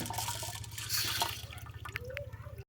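Rice pours into a pot of water with a soft watery rush and splashes, then a few faint drips and clinks, over a steady low mains hum before an abrupt cutoff.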